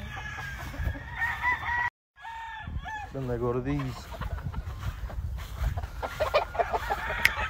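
Chickens cluck and a rooster crows nearby on a California farm, the crow rising in a clear wavering call mid-clip while someone talks over the flock.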